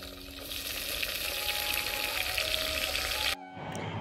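Spice tempering with oil frying in a pan over a wood-fired stove outdoors in a farm field, a loud steady sizzle close by that cuts off abruptly near the end, leaving a quieter hiss.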